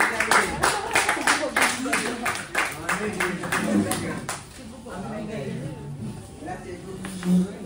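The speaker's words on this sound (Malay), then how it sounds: "Berikan tepukan" Classmates clap for a pupil in a school classroom, a short burst of brisk, distinct claps that fades after about three seconds, with a teacher's voice and children talking throughout.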